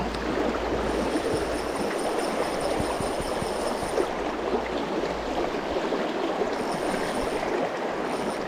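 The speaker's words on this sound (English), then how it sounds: "It's pretty heavy water out there" Fast, heavy river water rushing steadily and loudly over rocks, a continuous close roar with no voices.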